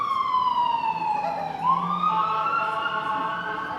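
An ambulance siren wails past, its tone sliding down then rising again as it moves by at moderate distance, steady and continuous with faint traffic rumble beneath.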